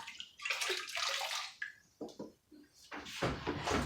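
Water runs and splashes in bursts from a tap while something is rinsed during household cleaning, starting and stopping several times, close and fairly soft.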